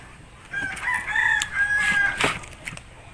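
A rooster crows on a banana farm, one drawn-out call rising and falling over a bit more than a second, close and fairly loud, with a few faint clucks trailing after it.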